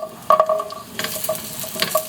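Ginger and whole peeled garlic cloves sizzle in hot oil in a casserole, with a steady frying crackle and a few clinks of a utensil stirring against the pot.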